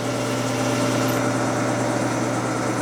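A Romi M17 CNC flat bed lathe with a Fanuc 21i-T control runs its spindle and high-speed chuck at 1,000 RPM, giving a smooth, even hum that holds steady and close throughout.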